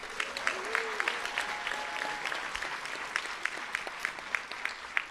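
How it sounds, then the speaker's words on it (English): An audience claps for a teacher honored at a school district employee recognition event, steady scattered applause at moderate distance with a brief voice and a few sharper claps standing out. "Let's give her a round of applause."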